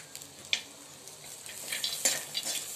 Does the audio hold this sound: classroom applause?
no